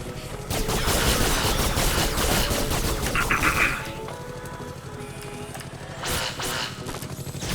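Rapid turret gunfire in a video game, a dense crackling volley for a few seconds that then drops to a quieter background before a short further burst, close and loud, with faint voices underneath.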